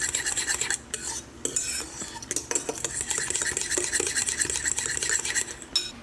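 A fork whisks egg whites in a bowl, a steady run of quick scraping, clicking strokes with brief pauses as the bowl is turned, close and fairly loud.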